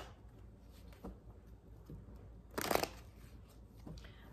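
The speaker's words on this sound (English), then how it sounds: "Thank you for your patience as I shuffle" Tarot cards shuffled by hand, a soft papery riffle that builds to one louder, busy burst midway, with faint scattered card taps around it in a quiet room.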